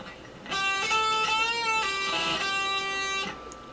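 An electric guitar plays a lick, with bends, releases and quick pull-offs; the sustained notes glide up and down in pitch and ring clearly over a faint background hiss for about three seconds.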